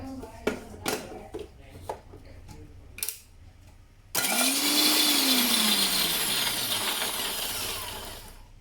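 A kitchen mixer grinder whirs loudly as it crushes onion for curry paste, starting abruptly after a few soft clinks and handling sounds and running steadily with a falling motor pitch as it winds down.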